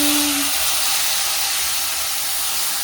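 Tomato fries in a pan with ginger, garlic and chili paste, giving a constant, dense sizzling hiss from start to finish without a break.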